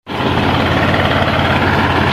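A tractor engine runs loud and close, a steady low rumbling idle throughout with no voices.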